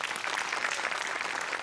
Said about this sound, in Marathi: तुझ्या अटेम्प्टसाठी टाळ्या